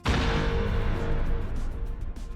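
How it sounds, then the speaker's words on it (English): A Star Wars seismic charge sound effect from Attack of the Clones erupts as a loud, dense, rumbling blast with a shimmering metallic ring that sustains and slowly thins out, with no voices. "The seismic charge from Attack of the Clones or whatever."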